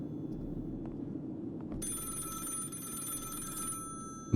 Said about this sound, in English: telephone's ringing now.